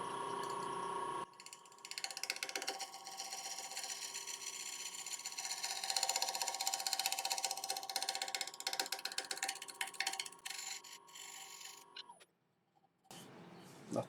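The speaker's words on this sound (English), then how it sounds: "So now I get back to truing up this rim. I'm just going to go back to my little 1-inch shear scraper." A 1-inch shear scraper trues the rim of an elm bowl on a spinning lathe, giving a faint continuous scraping hiss over the motor's steady hum, ending with a brief pause and a short resumption.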